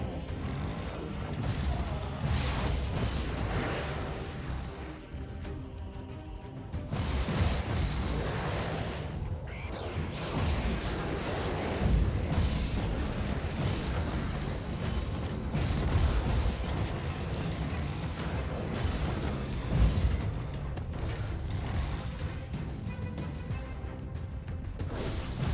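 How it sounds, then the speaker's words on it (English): Artillery battery firing in the Warhammer game Inquisitor: Martyr, a string of heavy booming blasts and rumbling impacts spread over a dense battle din, with mechanical clanks and creaks in between. "The battery is firing."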